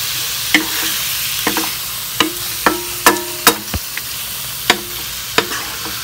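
Thin-cut beef sautéing in a pan gives a soft steady sizzle, broken by a dozen or so sharp scraping clacks of a utensil stirring against the pan at uneven intervals, close and without talk.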